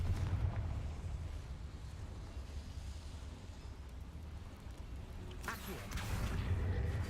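In the video game Hogwarts Legacy, the Confringo spell sets off a fiery blast: a loud rumbling burst erupts over a low, booming game background, followed by lingering roar and debris noise.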